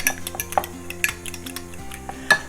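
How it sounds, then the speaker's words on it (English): Metal utensils clink and scrape in a pot as ingredients for chicken lemon soup are stirred, with irregular light taps and rattles close up over a low, steady background hum. "Stir this in there like this."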